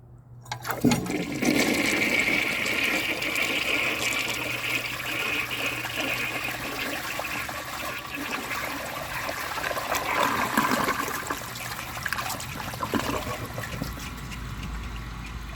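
A 1968 Peerless toilet flushes a washcloth away in a loud, close rush of water that churns steadily, then eases into a trickling refill.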